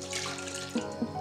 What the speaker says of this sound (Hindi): इसी कढ़ाई में हम थोड़ा गर्म पानी डाल के इसको डाल देंगे